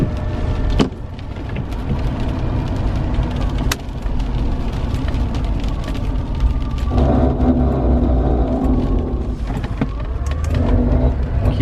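Chevrolet Impala interior while driving: a steady low road rumble and hum from a suspected bad wheel bearing, broken by a few sharp clicks and knocks. No one speaks.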